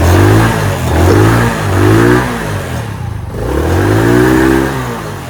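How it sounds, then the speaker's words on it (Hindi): A kick-started motorcycle engine, choke on, revs loudly up and down in three rising and falling sweeps, close by with no voices. "मेरी बाइक जो है ना अक्सर ही थोड़ा तंग करती है, लेकिन आज पहली किक पर स्टार्ट हो गई है।"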